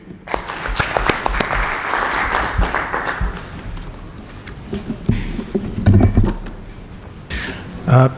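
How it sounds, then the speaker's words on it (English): An audience at a regional anti-corruption conference applauds a speaker, a burst of scattered clapping that thins out, with voices talking over the end. "Can we clap for him?"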